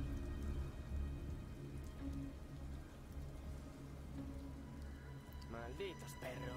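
Heavy rain pours steadily in a thunderstorm in the video game Detroit: Become Human, a constant loud patter across the scene while a voice speaks over it.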